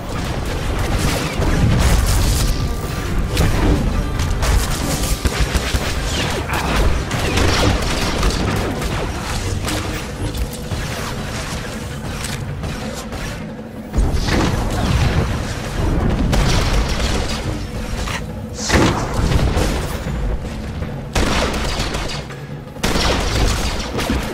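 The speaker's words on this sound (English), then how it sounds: "he's tossing a cryo grenade at one of the other troopers so he can concentrate on the elite" Repeated booming blasts and bursts of combat fire from Star Wars: The Old Republic, including cryo grenade explosions, loud and dense throughout, with brief lulls between volleys.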